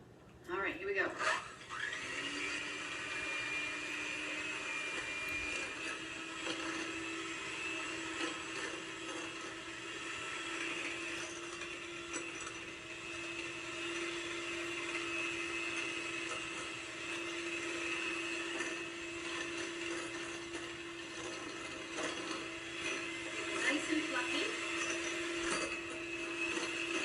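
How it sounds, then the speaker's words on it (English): An electric mixer whips egg whites in a bowl for a cake, a continuous close whirring drone that holds steady throughout with slight wavering. "we're going to fluff up our egg whites."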